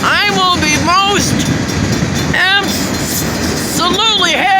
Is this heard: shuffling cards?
no